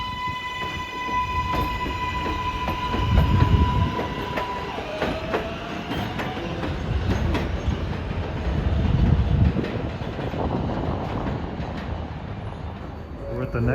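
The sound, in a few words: NYC 7 line subway train rounding a curve near 46th Street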